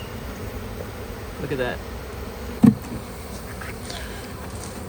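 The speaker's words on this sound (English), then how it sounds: "none of these bees have attacked me or hurt me" Honey bees buzz around an open hive box on a farm, a soft persistent drone with a few closer passes swelling briefly, while a person speaks a short remark and a sharp knock sounds midway.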